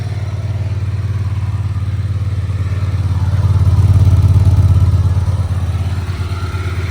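A Hyosung GV250 Aquila motorcycle engine idling steadily, a loud, close, low rumbling throb that swells briefly in the middle as it revs slightly, then settles back, with no talk over it.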